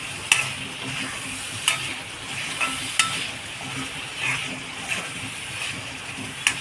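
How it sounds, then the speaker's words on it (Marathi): Cut raw mango pieces sautéing in oil for a Konkan-style prawn curry make a soft, steady sizzle, with a spatula clacking against the pan every second or so. "ही जी कैरी कापलेली आहे ना ते टाकून घेते आणि चांगले तेलामध्ये परतून घेते"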